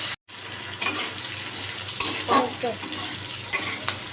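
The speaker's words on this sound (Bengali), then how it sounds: "আমি একটু কালো জিরে এই তেলেই দিয়ে দিচ্ছি" Nigella seeds fry in hot oil with a close, steady sizzle broken by a few sharp spoon knocks and stirring strokes against the pan, with no talk.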